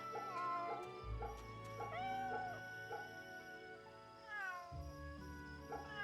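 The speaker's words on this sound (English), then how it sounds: "Kitty!" Cat meowing repeatedly in a samurai action video game, several drawn-out meows and caterwauls over a low game soundtrack hum, fairly close and clear.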